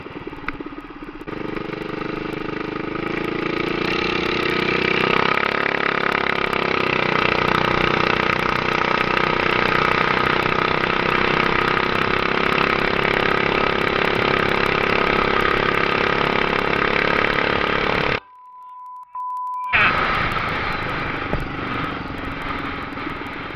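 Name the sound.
mini-bike engine running during ride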